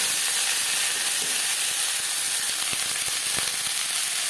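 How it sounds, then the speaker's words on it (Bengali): Snake gourd (chichinga) sizzles steadily as it fries in refined oil, a constant broadband hiss with a few faint clinks of a spoon against the pan and no talking. "এবার দিয়ে দেবো চিচিঙ্গা আমি আলাদা রিফাইন্ড অয়েলে করছি"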